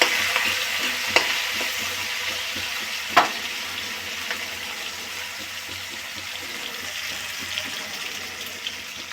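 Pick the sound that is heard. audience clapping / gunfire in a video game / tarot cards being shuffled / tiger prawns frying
tiger prawns frying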